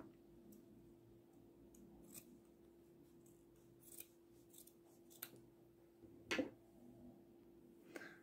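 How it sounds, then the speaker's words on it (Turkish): Scissors snip through the toe end of a sock while a doll outfit is being sewn, a few quiet cuts scattered through a hushed room, with one sharper, louder snip near the end. "Parmak kısmını keseceğim"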